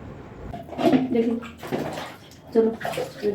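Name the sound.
water poured to bathe a child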